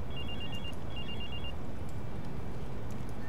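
A mobile phone rings in Watch Dogs, two short bursts of a chirping electronic ringtone sitting over a steady low game ambience with no talking.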